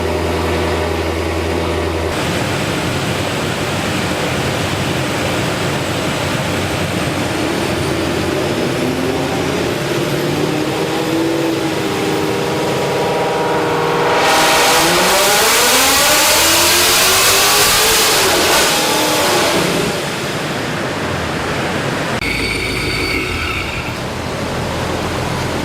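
A Procharger-supercharged Ford Mustang S650 on 93 octane makes a dyno pull, its engine droning steadily, then rising loudly in pitch as it revs hard, peaking with a roaring burst before easing off, with no talking.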